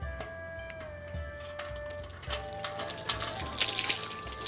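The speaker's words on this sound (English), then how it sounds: "A nice shower." Water sprays from a camp shower after its valve is turned, a steady hiss that grows louder and brighter toward the end, with faint ticking and small knocks nearby and no one talking.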